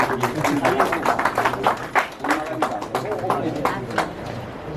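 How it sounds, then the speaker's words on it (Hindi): A whole audience at a literary award ceremony claps in a fast, steady rhythm, loud and close, with a voice carrying over the clapping. "तालियां पूरे महफिल में से बजनी चाहिए तभी मजा आएगा।"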